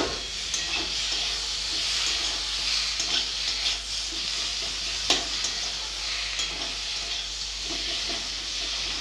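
Chopped tomatoes fry with chilli powder, turmeric, coriander and cumin in a pan, making a continuous hissing sizzle with soft scrapes and clicks from stirring throughout.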